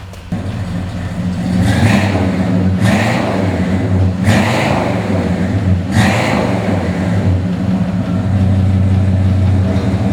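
A 1969 Oldsmobile 442 muscle car's engine rumbles steadily up close, punctuated by four sharp throttle blips that rev and fall back, loud and with no voices.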